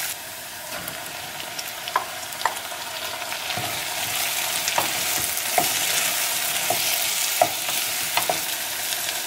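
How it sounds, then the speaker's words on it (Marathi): Chopped tomatoes go into golden fried onions in a pan, and a steady sizzle and crackle follows, with scattered sharp pops and light stirring scrapes and no voices. "अनियन गोल्डन इन कलर जाला टोमॅटोज घालूया."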